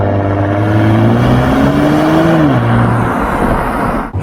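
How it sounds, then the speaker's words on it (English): A supercar's engine revs hard through a loud exhaust, a deep droning roar that climbs in pitch, eases off and then cuts out. "I've got a loud exhaust if I need it."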